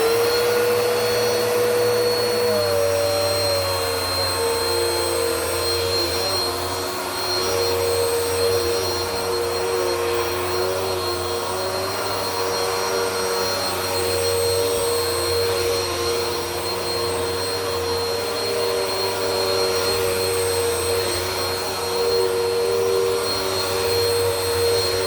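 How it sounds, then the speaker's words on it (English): A Bissell Power Force Helix upright vacuum cleaner runs steadily throughout, its motor whine loud and close with a constant tonal hum and airflow rush, alone without talk. "Here comes the Bissell Power Force Helix in 3,"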